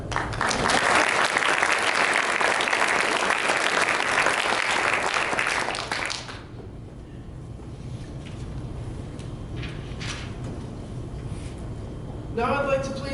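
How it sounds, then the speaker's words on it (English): Loud, dense applause from an audience at a scout ceremony fills the first six seconds, then fades to a quieter room murmur with a few scattered claps and a brief burst of clapping near the end. "You can clap for that."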